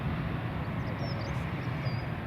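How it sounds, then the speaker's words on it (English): A distant EasyJet Airbus A320 jet taxiing at Edinburgh Airport gives a steady broadband engine roar and hiss, even in level and with no talking. "A320, the Swiss registered one, just taxi along the runway."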